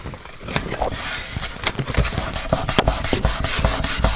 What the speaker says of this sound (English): and then burnish it down.